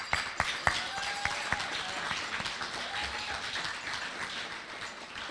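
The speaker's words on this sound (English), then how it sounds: "Yes, give him a round of applause." An audience applauds at a community gathering: a dense, steady wash of clapping with a few sharp claps standing out near the start, then settling into even, sustained applause throughout.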